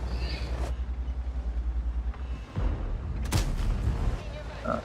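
A tank cannon shot striking the turret of an IS-3 heavy tank in a tank battle game, a sharp broadband impact crack over steady low engine rumble, with a second burst of blast noise shortly after.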